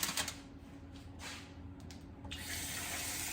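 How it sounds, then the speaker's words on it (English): Tap water runs into a pot for steaming chicken, a steady splashing hiss that swells louder toward the end as the flow picks up. "And I want to put some water in here"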